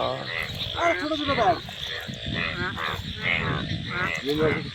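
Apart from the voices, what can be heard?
frogs croaking at night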